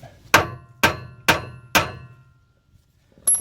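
An old door pin used as a punch is hammered against a bolt on a 2005 Jaguar X-Type front wheel bearing job: four sharp, ringing metallic strikes at a steady pace, then one lighter knock after a pause.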